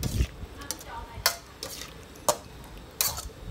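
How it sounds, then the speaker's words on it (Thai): Chicken stir-fried with shrimp paste in a pan: soft background sizzle broken by several sharp metal spatula clacks and scrapes at irregular intervals, fairly close. "แล้วก็มาผัดคลุกเคล้าค่ะให้เข้ากันค่ะ"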